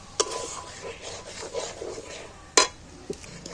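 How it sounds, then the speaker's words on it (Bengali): Poppy seed paste with yogurt being stirred and fried in a pan: quiet scraping and rubbing of a utensil against the pan, with two sharp clinks standing out against soft sizzle. "নাড়াচাড়া করে কষিয়ে নেব"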